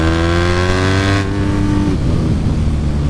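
A BMW R nineT motorcycle roars loudly up close as the rider opens the throttle, its engine note dropping sharply in pitch between revs.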